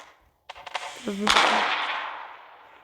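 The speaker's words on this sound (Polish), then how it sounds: "A zrobimy takiego creepera, który wybucha" A creeper blows up in the mobile game Melon Playground: a few quick clicks lead into one loud close blast that rumbles and fades over about a second and a half.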